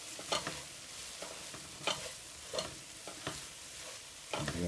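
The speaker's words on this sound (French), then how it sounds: "On tourne jusqu'à ce que ce soit bien mélangé." Rice is stirred into a cooking pot, giving several scraping, clattering strokes at an uneven rhythm over a faint background hiss, close and fairly quiet, with no voices.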